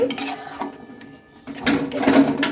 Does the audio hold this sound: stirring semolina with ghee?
yes